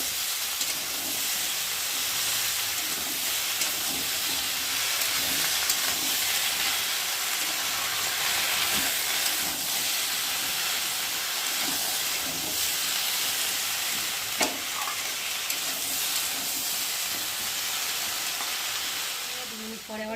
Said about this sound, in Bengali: কেটে রাখা কচু আলু আর পুঁই শাকটা দিয়ে একটু মশলার সাথে কষিয়ে নেব